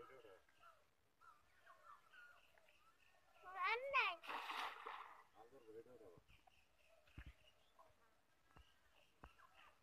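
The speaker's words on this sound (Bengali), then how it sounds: "দেখেন কিভাবে মাছগুলো লাফালাফি করছে" Small puti fish thrash and splash in a cast net at a village pond, a brief burst of wet flapping near the middle, with bird calls and light ambient sounds around it.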